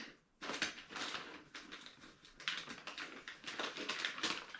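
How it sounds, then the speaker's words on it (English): Packing tape is peeled off a FedEx package in a rapid crackling, ripping series of bursts, close and fairly quiet, with no talking. "FedEx, it looks like taped over section, so let's peel some of this off."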